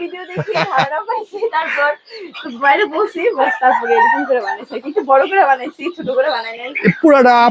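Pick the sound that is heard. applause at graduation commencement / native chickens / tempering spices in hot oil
native chickens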